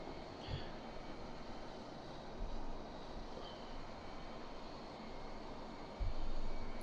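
A Mirage F1 jet taxiing toward the runway in the flight simulator DCS, a steady broadband engine rumble with low thumps at intervals, no voices over it.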